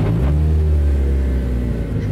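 A Chevrolet Chevette drift car drives nearby, its engine giving a steady low rumbling drone with a faint rise in revs, loud and close throughout the short stretch.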